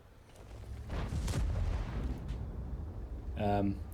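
Tank cannon fire in a tank battle video game with IS-5 and 113 heavy tanks: a few muffled, distant booms under faint talk at low volume.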